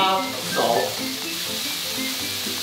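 Raw scallops sear in a hot pan with a close, continuous sizzle that stays fairly loud and even, with a brief surge of crackle partway through.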